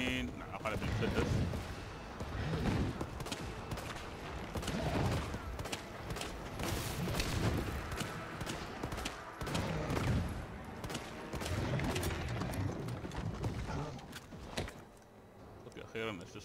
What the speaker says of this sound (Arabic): الحين اقلع بالمسدس